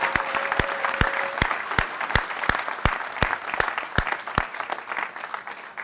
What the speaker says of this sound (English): Let's give another round of applause for all the graduates in the School of Graduate Studies.